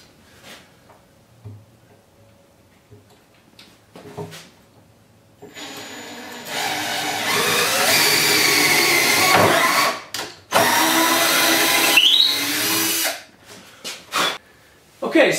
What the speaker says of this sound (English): I put a 1/4-inch drill bit into my drill. We're going to drill 2 holes, one on each side for our bolts